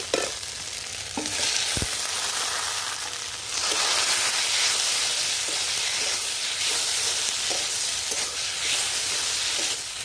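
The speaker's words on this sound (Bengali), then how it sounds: "মশলাটা আমার কষানো হয়েছে, এখন গাটি কচুগুলো দিয়ে দেব।" Taro pieces dropped into fried spice paste set off a loud, steady sizzle that carries on with brief stirring scrapes, close and with no voices.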